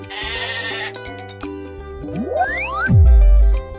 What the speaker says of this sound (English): Goat lives in a pen.